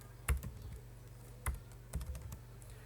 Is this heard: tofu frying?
no